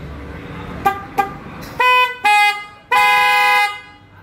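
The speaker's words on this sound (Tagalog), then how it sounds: "Royal Twin Horn na tinatawag na snail." A loud Royal twin snail car horn blasts several times, first two short toots, then longer sustained honks with a bright, buzzy twin-tone, very close.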